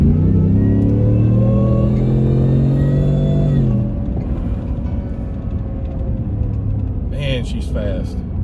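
A supercharged 2023 Ford Shelby F150 Super Snake truck pulls hard, its engine droning loudly and rising in pitch, then the note drops with a shift into a rumbling roar while someone talks over it.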